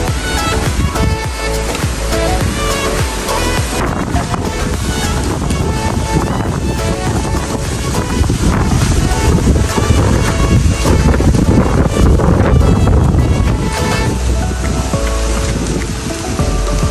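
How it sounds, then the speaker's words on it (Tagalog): Strong wind gusts across a fish pond, a loud, continuous roaring rush buffeting the microphone with no break. "Malakas po ngayon ng hangin."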